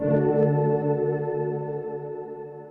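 A sustained synth chord rings out through Bitwig Studio reverb placed outside the tank effects, with a washy tail, starting loud and slowly fading, no voices.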